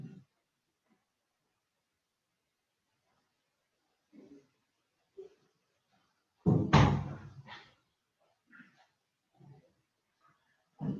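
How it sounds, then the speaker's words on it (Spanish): An indoor door is shut with a single loud thud and brief rattle, standing out against near silence and a few faint scattered knocks. "fui a cerrar una puerta"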